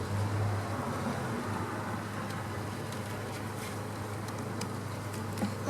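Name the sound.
agitated honeybees buzzing around an open hive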